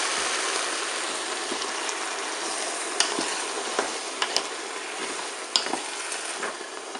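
Peeled tomatoes sizzle in a Cookeo multicooker pot while being prepared for a vegetable gratin: a steady, moderate frying hiss with scattered small pops and clicks throughout, no voices.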